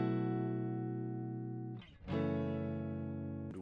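Clean electric guitar with no effects, a sustained chord ringing for nearly two seconds, then a brief scratchy strum change and another held chord, fairly quiet and close.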